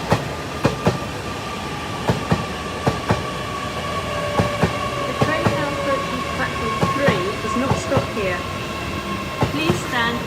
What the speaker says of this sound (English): The 1300 hours LNER service from London King's Cross to Lincoln Central.